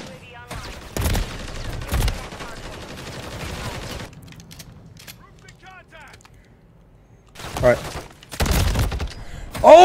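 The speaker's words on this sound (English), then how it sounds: "I'm using the battle rifle" Battle rifle gunfire in a first-person shooter: sharp, loud shot bursts separated by pauses, with someone talking in between.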